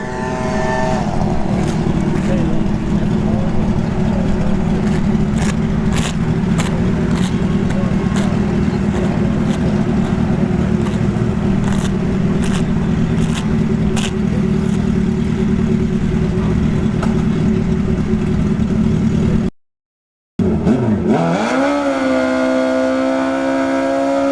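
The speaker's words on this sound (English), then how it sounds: "we got the Nitrous Busa, the bracket racer here" Nitrous-fed Suzuki Hayabusa bracket drag bike at Bradenton Motorsports Park, a steady loud engine drone with crowd noise and clicks over it, a brief dropout, then a rising rev at the end.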